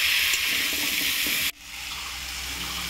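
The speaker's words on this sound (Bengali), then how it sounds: "এখন মা গরম জল দিয়ে দিল।" Hot water is poured into a cooking pot of pumpkin seasoned with salt and turmeric, a steady rushing splash for about a second and a half that stops abruptly, leaving a softer simmering hiss.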